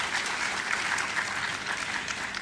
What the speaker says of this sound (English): Please let's applaud him once again.